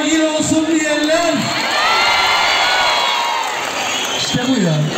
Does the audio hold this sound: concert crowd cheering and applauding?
yes